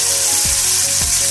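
Water poured onto a sizzling, oil-rich spice masala in a pan for a Bengali yogurt bhetki curry produces a loud, dense, hissing roar with two brief low bubbling gulps.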